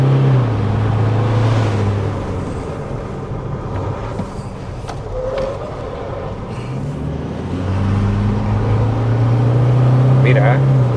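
Engine of a fourth-generation Toyota Hilux GR Sport pickup truck while driving, a steady low drone with rising and falling revs through the clip, loud and close, with people talking over it.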